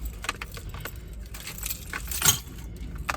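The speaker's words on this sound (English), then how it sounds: "Okay, I need my keys." Keys jangle and clink inside a car during a makeup routine, a loose metallic rattle in several bursts with one louder shake near the end, close and clear without talk.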